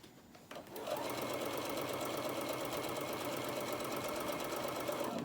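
A sewing machine starts up and runs at a steady, fast stitching pace while sewing a tote bag, loud and close, with no talking.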